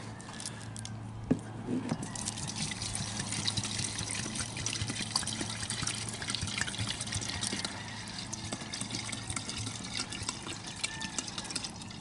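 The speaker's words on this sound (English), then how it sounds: "I'm going to put a couple of quarts of non-ethanol gas in this thing." Non-ethanol gasoline is poured into a small engine's fuel tank, making a faint, continuous trickling and splashing of liquid for several seconds, with quiet background noise.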